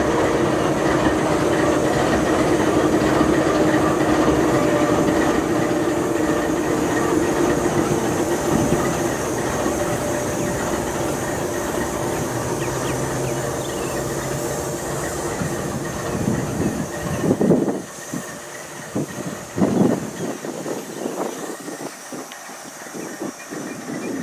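A CSX freight train of mostly grain cars with one boxcar rolls past in Tidewater, Virginia, a loud continuous rumble with rattling wheel clatter that fades and thins out toward the end.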